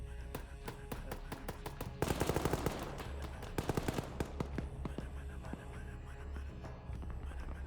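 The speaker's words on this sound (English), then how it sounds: "Alright, so we have a little bit of gunshots." Rapid bursts of video game gunfire, automatic volleys and single cracks over a steady low rumble, loudest in a dense cluster then scattered shots continuing.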